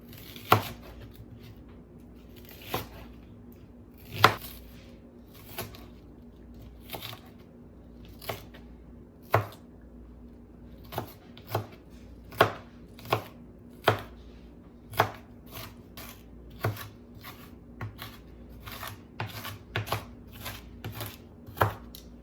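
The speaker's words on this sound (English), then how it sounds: "This is just a rough chop," A knife rough-chops washed sweet potatoes and half an onion on a cutting board, with about twenty crisp, evenly spaced thunks at a moderate, unhurried pace, heard up close and alone.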